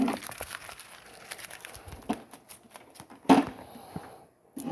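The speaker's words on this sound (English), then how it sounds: "This epoxy has dried, and I'll pull the tape off." Masking tape being peeled away from dried epoxy on a custom plumbing reservoir tank, a run of close crinkly rips and crackles in irregular bursts, with one louder tearing strip near the end.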